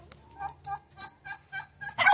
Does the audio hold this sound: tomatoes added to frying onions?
no